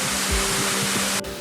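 Steady broadband rush of a waterfall, the first cascade reached on a mountain hike, filling the whole clip loud and close, with a brief low thump early and the roar dropping slightly near the end.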